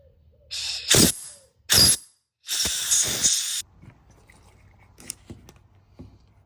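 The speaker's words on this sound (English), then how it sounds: "now I'm going to take my air compressor and I'm going to blow some compressed air into that hole" Three sharp, loud blasts of compressed air hiss in quick succession into a carburetor hole on a Yamaha TTR125, each a second or so long, followed by faint clicks and quiet.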